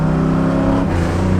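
Abandoned Cadillac limousine engine revving hard through a loud, crude exhaust, a close, steady deep rumble with rhythmic low pulsing that holds throughout, no talking.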